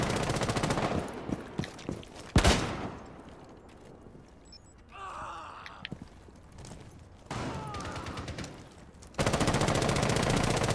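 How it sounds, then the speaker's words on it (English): Rapid gunfire exchange in Rainbow Six Siege, with loud bursts of automatic fire at the start and end, a sharp single shot early on, and quieter stretches of distant shots and game noise in between. "Sounds like they're shooting each other out."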